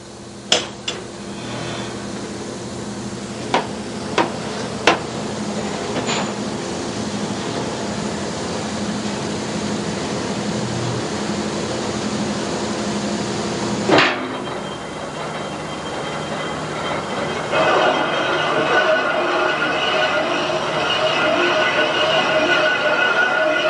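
A machining tool chamfers the top lip of a Chop-Rite sausage stuffer in a workshop. It makes a steady, dense mechanical roar, with a few sharp metallic clicks early on and a shift to a brighter, harsher tone partway through.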